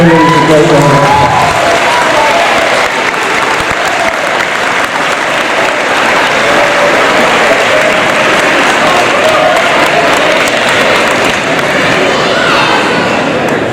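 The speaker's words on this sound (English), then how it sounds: "Give your parents and families a great round of applause." A large graduation crowd gives a long, loud round of applause for parents and families, continuous dense clapping with scattered voices and cheers mixed in that keeps up at full strength.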